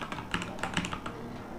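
Rapid keystrokes on a Redragon Kumara K552 mechanical gaming keyboard, crisp close clacks in an uneven burst of typing, with no talking.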